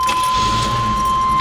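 Car keys for a 1986 Buick Estate Limited Wagon jangle in a brief, loud, close metallic rattle, with no talk over it.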